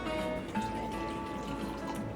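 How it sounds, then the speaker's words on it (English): Liquor pours from a freshly uncorked bottle into a shot glass, a faint, short trickle of liquid against quiet background noise. "You want to pop that, pour a little shot."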